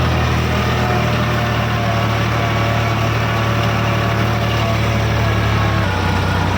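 An Eicher 557 tractor's diesel engine drones loudly and steadily at about 1700 rpm while pulling an 11-tine cultivator, its low hum unchanging until a slight shift in pitch near the end; no voices.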